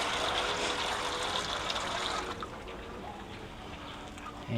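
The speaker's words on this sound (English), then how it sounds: "put water directly into that" Hot water pours steadily into the water pan of a barbecue grill, a broad continuous gushing that runs loud for about two seconds, then eases into a softer trickle with a brief clank at the end.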